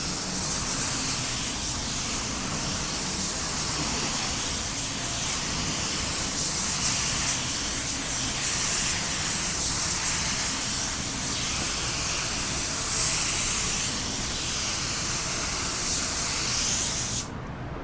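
A paint spray gun lays sealer onto a car body, a loud, steady, close airy hiss that runs almost without a break for the whole stretch before cutting off at the end.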